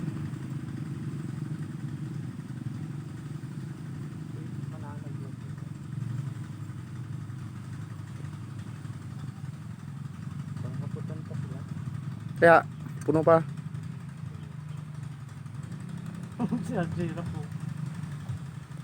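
A motorcycle engine drones steadily throughout, with people talking over it and a few brief clattering knocks.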